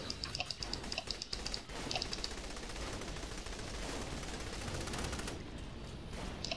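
Rapid enemy gunfire in the video game Saints Row: The Third, with sharp repeated shots in quick bursts at the start, then a sustained loud wash of automatic fire and noise.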